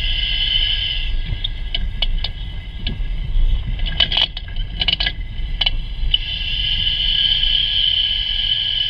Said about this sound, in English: Just reverse over the same bumps because those really make it hit hard.